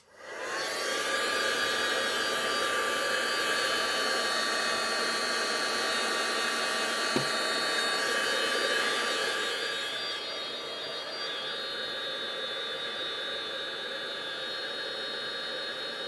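A blow dryer dries a card-making project, blowing a loud, steady, close whoosh with a high whine that runs continuously, dropping slightly in level partway through.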